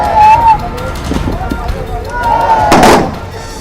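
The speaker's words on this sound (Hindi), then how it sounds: "गोलियों के इस तड़तड़ाहट से तुम्हें डरना चाहिए। ये अंतिम सलामी दे रहे हैं अपने बहादुर बेटे को" A rifle gun salute fired at a soldier's funeral at Patna Airport, with a sharp volley cracking out under loud, continuous narration and crowd murmur.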